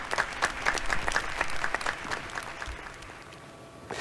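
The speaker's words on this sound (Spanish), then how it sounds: "Aplausos sinceros y emocionados." Sustained applause from people at their windows during the 2020 confinement, a dense crackle of many hands clapping at a distance, slowly thinning toward the end.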